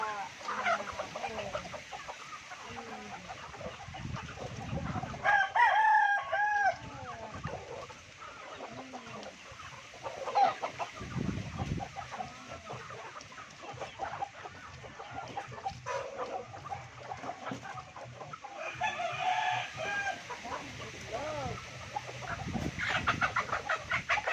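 A flock of chickens at a farm clucks busily while being fed, with louder squawks and a rooster's crow standing out at moments, fairly close and continuous.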